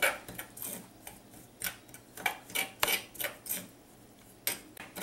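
A spoon clinks and scrapes against a bowl while sour orange juice, cumin and oregano are stirred into a pork roast marinade, giving irregular close taps and clatters with quiet gaps between them.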